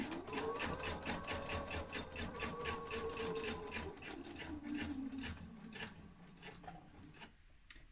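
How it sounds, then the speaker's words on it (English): A sewing machine stitches along a shirt seam with topstitch-weight thread at stitch length 3, its rapid, even needle rhythm running close and steady, then slowing and stopping near the end. "I'm just going to stitch along using a couple of mils and a top stitch size thread"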